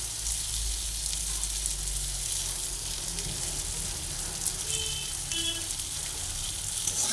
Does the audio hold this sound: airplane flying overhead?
no